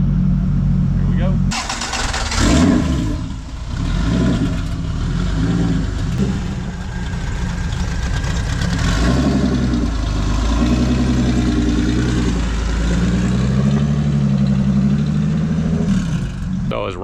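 A turbocharged Honda engine in a sand car cranks and fires up, revving briefly before settling into a loud, lumpy idle as it warms, with people talking over it.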